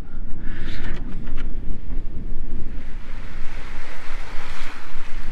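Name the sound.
wind gusts and waves while sailing in the Bahamas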